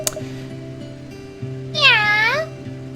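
A cartoonish cat meows once, a drawn-out rising-then-falling call, in the Professor Layton game, sounding clearly over steady background game music.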